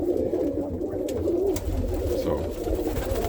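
Roller pigeons coo steadily and close by in a loft, their low throaty warbling continuous and loud, with a few faint clicks and rustles.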